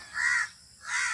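A crow near a boat out at sea gives two loud, harsh caws separated by a short pause, close by and clear, with no talk over them.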